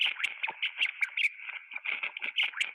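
Rats give a quick run of short, high chirps during play, a dozen or more sharp calls in an irregular patter, close and clear with no other sound.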